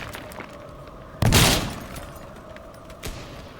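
A burst of gunfire in the multiplayer video game Teardown, one loud sharp blast followed by a decaying rumble, with a fainter shot near the end over quiet background noise.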